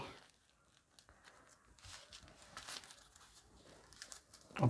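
Cardboard packaging of a Raj Comics collector's edition being opened, with soft crinkling, tearing and crumpling rustles scattered through the clip, fairly quiet and close, ending in a louder scrape.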